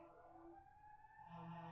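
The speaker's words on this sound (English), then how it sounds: "that's the siren that the little drone is playing to tell everyone to leave outside" Faint electronic siren sound effect in a tabletop game session, a steady wavering wail with shifting pitch over a short stretch, quiet and alone without talk.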